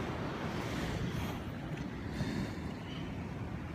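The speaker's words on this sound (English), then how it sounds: "It's a wave coming right here, you see it?" Ocean waves roll and break at Ocean Beach, San Diego, giving a steady, loud, broadband wash of surf with wind rushing over the microphone and no pauses.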